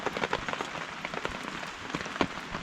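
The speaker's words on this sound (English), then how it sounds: "If I have to be in the rain, stuck under a tarp like this" Rain pattering steadily on a tarp on a mountainside in the Pacific Northwest wilderness, a dense close crackle of drops with louder individual hits scattered throughout, no voices.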